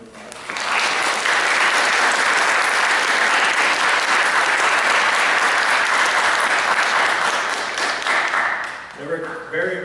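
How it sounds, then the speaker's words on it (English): Loud, sustained round of applause from a large audience at a school tech honor society ceremony, swelling quickly and holding full before tapering, with a voice starting to speak at the very end. "Can we give them a round of applause?"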